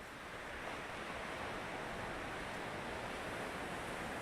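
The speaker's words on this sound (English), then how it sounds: "Love the sound of the waves" Ocean waves surge and pound against rocks along the Mt Maunganui base track in New Zealand, a dense, continuous roar of surf with no voices.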